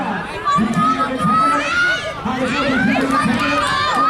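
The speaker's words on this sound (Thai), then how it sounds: "กองเชียร์ครับ เอามา" Football supporters at an amateur rainy-season cup match shout and cheer as a crowd, their voices rising and falling close by with chanting-like bursts.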